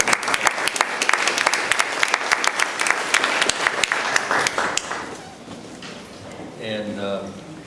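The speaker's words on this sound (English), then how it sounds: "I think we ought to have a round of applause for her for all she does." An audience at a community health forum applauds with dense clapping that fades out after a few seconds, followed by a voice starting to speak.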